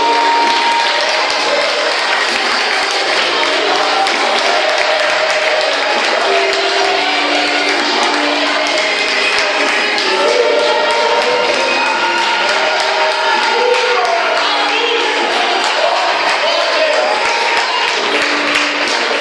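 Church congregation applauding and cheering throughout a loud, dense, continuous burst of clapping and voices, with singing or shouting voices mixed into the crowd noise.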